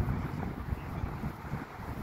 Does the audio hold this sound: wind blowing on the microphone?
yes